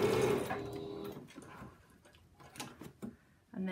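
A sewing machine stitches a quilt block seam in a short whirring burst at the start, then fades to quiet mechanical ticks and handling sounds before a brief restart at the end.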